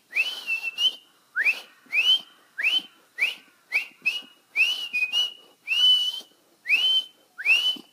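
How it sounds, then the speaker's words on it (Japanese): Loud, clear mouth whistling repeats in short rising bursts, about a dozen notes in steady rhythm, each swooping upward; the whistle is meant to scare off bears outdoors in the wild. "口笛を吹くイメージで"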